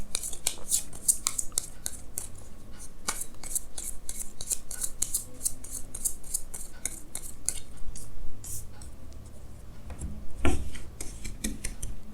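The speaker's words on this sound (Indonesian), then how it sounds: "Jadi sini saya akan tarik lagi 2 kartu tambahan ya." Tarot cards being drawn and shuffled by hand, with a rapid run of crisp paper snaps, rubs and flicks close up, plus a louder handling knock near the end; nobody talks.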